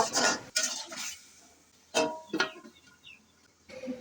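A utensil scrapes and clinks in a pan while spices are stirred into a Bengali fish curry, several short scraping strokes separated by quiet pauses.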